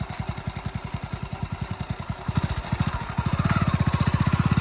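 A motorcycle engine idles with a steady low putter, revving slightly louder toward the end; no one speaks.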